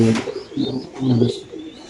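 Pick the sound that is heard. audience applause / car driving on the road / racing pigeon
racing pigeon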